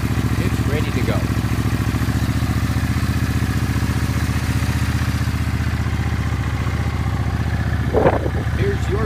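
A Suzuki Intruder motorcycle with new tires, battery and spark plugs drones steadily while ridden, its loud, even engine rumble filling the whole span with a brief rise near the end.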